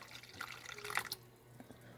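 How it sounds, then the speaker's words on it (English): About two cups of water going into a pot to be boiled into sugar syrup for homemade candy, heard as quiet splashing and dripping that peaks briefly near the middle and then trails off into a few faint drips. "I'm just basically gonna put more or less two two cups of water here, so we can boil this."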